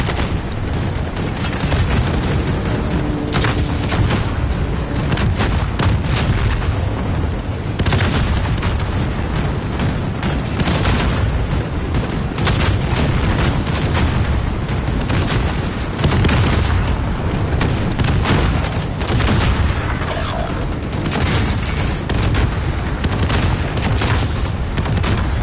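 A dense, relentless barrage of rocket launcher explosions and gunfire in the video game Call of Duty Warzone, with loud booms overlapping continuously for the whole stretch and no pause between blasts.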